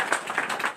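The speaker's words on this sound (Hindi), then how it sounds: "इनका भी हार्दिक स्वागत करते हैं तालियों से" Brief quick clapping at a political gathering, a few hands striking in a rapid, fairly even rhythm, close and moderately loud.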